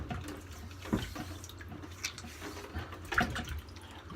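Water splashes and drips during a quick rinse in the middle of a straight razor shave, with Martin de Candre Agrumes soap in use: a few soft, close splashes and trickles at a low level, with no talking.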